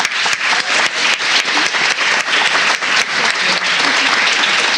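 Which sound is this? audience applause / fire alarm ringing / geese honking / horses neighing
audience applause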